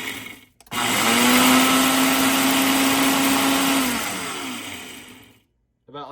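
A kitchen blender pulses dried chili peppers for homemade chili oil, one loud whirring burst of about three seconds with a steady motor tone that winds down and stops, followed by a brief start of another pulse.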